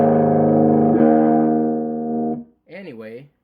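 A distorted electric guitar from a tour effects setup sustains a thick, loud chord for over two seconds, then fades, followed by a short burst of speech.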